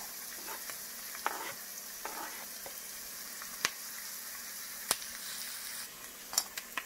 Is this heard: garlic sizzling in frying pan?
yes